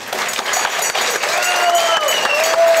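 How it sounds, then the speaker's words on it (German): Studio audience at a celebrity cooking show applauds steadily for the full stretch, a dense, close wash of clapping with a few voices and cheers rising through it near the end. "Herzlichen Applaus."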